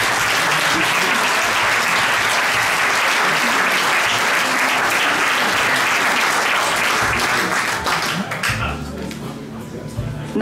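Loud, sustained applause from a big audience at a chamber of crafts and business anniversary ceremony fills the room, then fades near the end as someone starts to talk.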